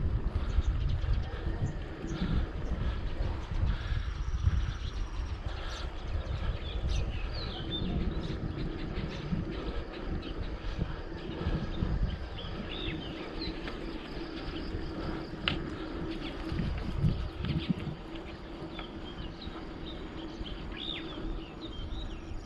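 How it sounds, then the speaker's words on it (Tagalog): Birds chirping faintly in the distance along a rural trail near Barangay Batas, Silang, under a constant low wind and outdoor rumble, with scattered brief calls throughout. "Narinig niyo yung mga ibon?"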